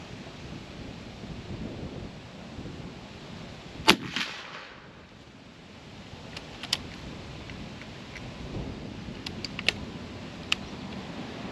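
An Airforce Texan .357 air rifle fires hollow-point slugs at a 50-yard range: one sharp, loud crack followed by a few faint distant ticks and impacts over quiet outdoor background, no talking.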